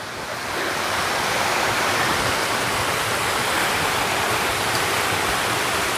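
Strong water rushes steadily down a mountain stream in a forest, a loud, continuous broadband roar heard up close with no voices over it.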